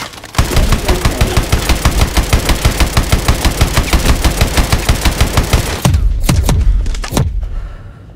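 Main gun of a vehicle in Call of Duty Advanced Warfare fires a rapid, sustained burst of loud heavy shots for about six seconds, then stops, followed by two or three separate booming blasts with decaying echoes.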